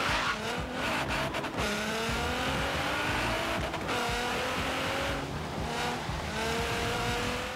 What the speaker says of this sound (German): Soundtechnisch braucht sich der Wagen auch nicht zu verstecken, können wir uns nochmal anhören.